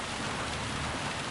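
Rain in Gran Turismo 7 played on PSVR 2 falls as a continuous broad hiss, steady and even across the moment with no voices or distinct drops standing out.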